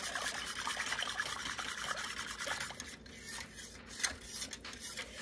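A whisk rubs and scrapes through Marry Me Chicken sauce in a crockpot, a soft, continuous swishing close by with a faint liquid trickle, fairly quiet and free of talk.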